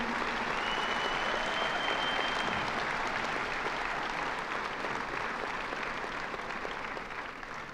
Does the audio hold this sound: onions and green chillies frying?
no